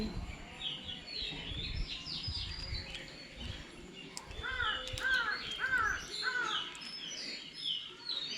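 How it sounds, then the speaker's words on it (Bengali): Several crows caw in short repeated bursts midway through, mixed with other birds chirping against a steady outdoor morning background at a home. "কত সুন্দর কাক ডাকছে"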